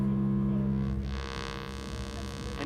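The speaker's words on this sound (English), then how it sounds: "The shaping sounds like this." Make Noise Dual Prismatic Oscillator run through its wave shaping, unmodulated and manually adjusted, giving a steady buzzing synth drone with a gritty, harmonically rich tone that brightens partway through, loud and continuous.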